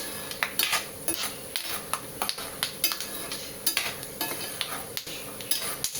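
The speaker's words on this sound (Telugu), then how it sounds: "ఇవైతే బాగా ఫ్రై అవ్వనివ్వాలి" Peanuts fry in a pan, with busy scraping and clinking of a spoon against metal in quick, uneven strokes over a soft, continuous sizzle, fairly close.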